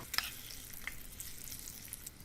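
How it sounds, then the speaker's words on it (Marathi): Mustard seeds, curry leaves, asafoetida and dried red chilli pieces tempering in hot oil for coconut chutney, a faint steady sizzle with a few tiny pops, close and quiet. "मोहरी तडतडल्यावर कढीपत्त्याची पाच ते सहा पाने हिंग दोन चिमूट एका लाल सुक्या मिरचीचे तुकडे परतून घेऊया"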